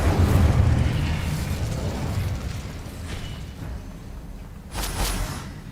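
A fire spell cast in the video game Hogwarts Legacy: a sustained roaring, rumbling burst that tapers off, then a second short flaring whoosh near the end, with no talking.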